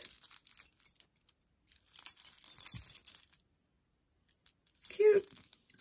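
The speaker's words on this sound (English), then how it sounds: "This is a stretchy bracelet with some antiqued metal items." A stretchy bracelet strung with antiqued metal key and heart charms jangles and clinks in short bursts, close up and soft, with brief gaps of near silence between handlings.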